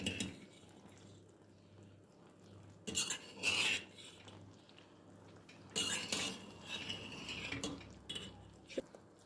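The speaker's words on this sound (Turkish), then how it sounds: "Şöyle karıştırayım ben." A spoon stirs apricot jam in a pot, scraping and clinking against the metal in two distinct bursts separated by quieter simmering, close and fairly soft.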